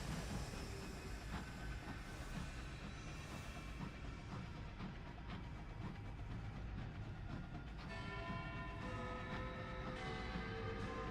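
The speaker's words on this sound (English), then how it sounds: "We can hear the chimes of a bell off in the distance." Bell chimes ringing off in the distance in the Sunless Skies game, tonal strikes and sustained ringing overtones layered over a constant rumbling engine drone, growing clearer toward the end.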